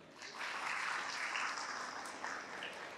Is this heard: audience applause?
yes